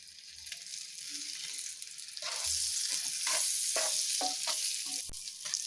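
Eggs frying in hot sesame oil with chilli, turmeric, coriander powder and salt, a loud continuous sizzle that swells midway, with several sharp scrapes of a spoon stirring in the pan.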